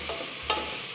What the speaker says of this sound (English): It's sizzling, it's ready to eat.